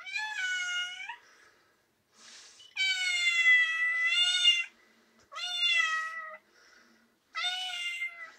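A cat meows four times in loud, drawn-out cries with short pauses between them, heard close and alone, inside a church youth classroom.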